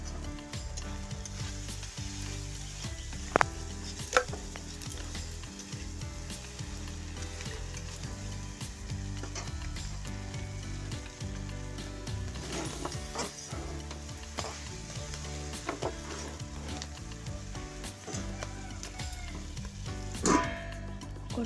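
Red ant eggs frying in a covered pan give a low, continuous sizzle with scattered pops and clinks, a dog barking faintly at times in the background.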